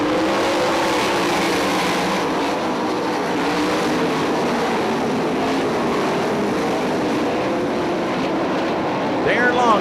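Sprint cars racing on a dirt track at Crystal Motor Speedway, a continuous dense engine roar from the field, distant and steady, with a commentator talking over it.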